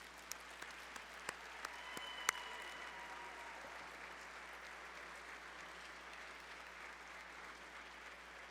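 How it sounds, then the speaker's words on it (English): Steady, sustained applause from a gala audience honoring a board of trustees, a dense, even wash of clapping with a few sharper claps near the start, heard from a distance in a large room. "May I give a big round of applause for our Board of Trustees."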